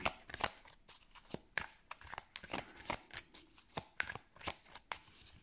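Oracle cards being shuffled and cut by hand during a tarot reading, a run of crisp, rapid riffling slaps and flicks close up, repeating irregularly with no one talking.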